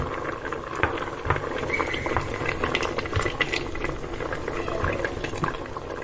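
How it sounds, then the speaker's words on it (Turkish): A pot of wheat bubbles at a steady rolling boil, with constant popping and gurgling of water close up and no talking. "Gördüğünüz gibi buğdayımız kaynıyor."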